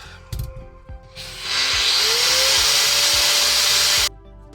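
Grinder held against a spinning airsoft AEG gear in a drill, a harsh sustained grinding roar that rises after a few clunks and runs loud for about three seconds before cutting off.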